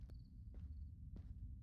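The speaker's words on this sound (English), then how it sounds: "Yeah, I can hear footsteps." Faint, distant footsteps in the VR shooter Escape from Tarkov VR, three soft separate treads spaced out over a low rumbling ambient hum, no voices.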